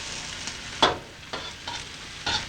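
Stir-fried vegetables are scooped out of a hot wok into a dish, a continuous close sizzle punctuated by several distinct scraping strokes of a utensil against the wok, without speech.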